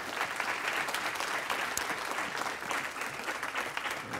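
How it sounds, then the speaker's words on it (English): A church congregation at a Sunday evening missions conference applauds, a dense, steady wash of clapping from many hands heard at moderate distance. "You could give it a round of applause for that."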